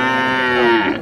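A young bull at Rajshahi city cattle market lets out a single loud, close moo that holds steady and then trails off at the end, heard alone without talk.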